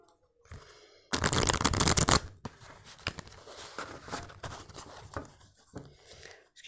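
Tarot cards being shuffled by hand in a quiet room, a loud dense riffling burst followed by softer, scattered card slaps and sliding.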